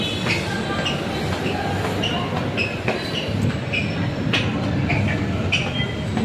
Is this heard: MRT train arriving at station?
yes